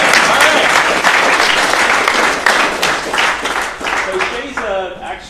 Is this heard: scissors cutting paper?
no